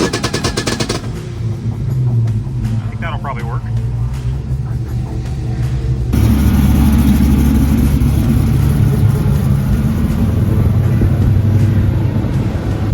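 A car engine crackles and pops in rapid bursts while held on a two-step limiter set at 4,000 rpm at a drag strip, then roars louder; someone speaks briefly near the start.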